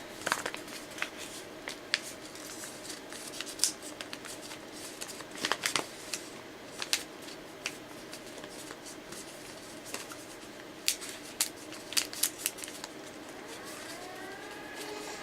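Paper being creased and folded by hand for an origami fire-breathing dragon, a steady run of soft crinkles and sharp crisp snaps spread through the clip, close and fairly quiet with no talking.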